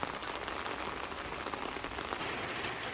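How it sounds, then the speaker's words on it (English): Steady rain drums on a greenhouse, a dense, even hiss of drops on the panels that stays constant and fairly loud from start to finish, with no voices. "And in the greenhouse during the rain"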